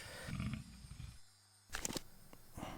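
A deep, rumbling crocodile growl swells over a noisy game soundscape in Tomb Raider (1996), The Colosseum level, followed by sharp impact sounds.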